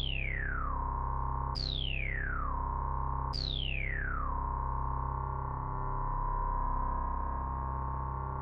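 A ring-modulated synth tone in TidalCycles sweeps downward three times in quick succession, then settles into a steady buzzing drone.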